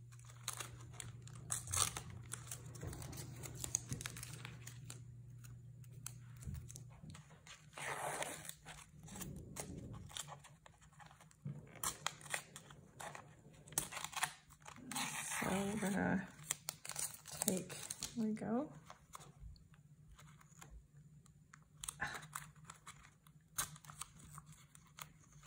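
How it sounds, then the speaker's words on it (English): Masking tape being peeled off the edge of a painting, with scattered crinkling, tearing and crumpling bursts close by, a steady low hum early on and brief bits of talk between the rips. "Okay, let's take the tape off. Or some of the tape off."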